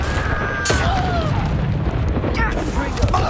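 A Confringo fire-spell blast in the wizarding game Hogwarts Legacy, a loud rumbling boom within dense, continuous combat noise, with a voice speaking over it.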